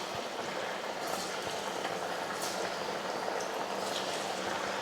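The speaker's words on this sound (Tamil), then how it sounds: "எண்ணெய் வந்து நல்லா காஞ்சிருச்சு. இப்போ நம்ம வடை போட்டுக்கலாம்." Lentil vada deep-frying in hot oil gives a dense, even bubbling hiss that stays steady throughout, fairly soft and with no voices.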